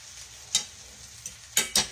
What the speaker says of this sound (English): stir the potatoes and onions around a little bit